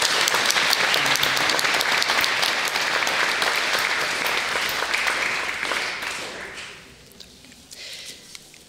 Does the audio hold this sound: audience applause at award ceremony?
yes